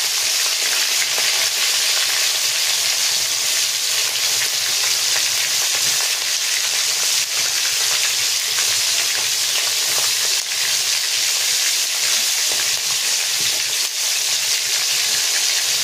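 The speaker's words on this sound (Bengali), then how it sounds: "চিংড়ি মাছগুলো আগে ভেজে নিচ্ছি" Prawns fry loudly in a pan with a dense, continuous sizzle and hiss that stays nearly constant throughout, with faint stirring noises underneath.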